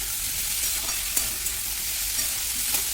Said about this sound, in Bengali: হালকা করে ভেজে নেবো তারপর ক্যাপসিকামটা এর মধ্যে দিয়ে দেবো